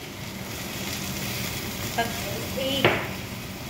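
Garlic frying in a pan for a chicken dish, a steady close sizzle with light stirring, a couple of brief clinks of a utensil against the pan near the end, no voices.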